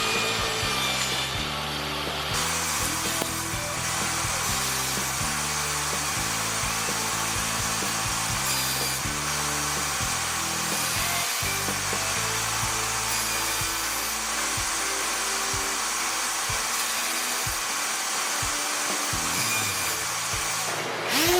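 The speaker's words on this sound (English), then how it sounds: "I then set up the table saw at a 45-degree angle for cuts on the outer pieces." A table saw set at a 45-degree angle cuts wooden pieces for a homemade cross, its loud steady motor whine running throughout as the blade bites through the wood, with no talking.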